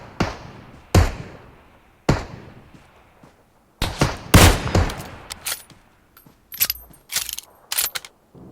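Gunfire in PUBG Mobile: loud, sharp shots ring out close by, first as isolated single cracks spaced about a second apart, then rapid bursts and clusters of shots with short echoing tails, no voices.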